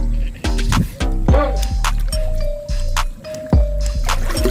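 Water is scooped and splashed out of a small boat on a river in repeated wet sloshing bursts, close by, with people's voices talking over the splashing.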